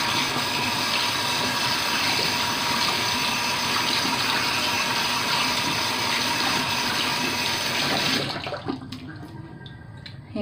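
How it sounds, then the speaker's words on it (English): Water gushes steadily and loudly from a bathroom tap for about eight seconds, then cuts off abruptly, leaving a few faint drips and small clicks in near silence. "Turn on my water."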